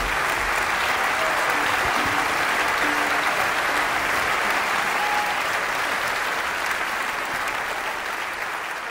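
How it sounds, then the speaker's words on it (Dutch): A concert hall audience applauding a chamber orchestra performance, dense sustained clapping from a large crowd that fills the room steadily for nine seconds and fades slightly at the end. "Een groot applaus."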